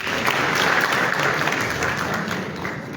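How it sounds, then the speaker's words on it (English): An audience at a meeting of West African central bank governors in Liberia applauds the Bank of Ghana's representative, a loud, full and sustained burst of clapping that fills the room without a break. "Let's give her a round of applause."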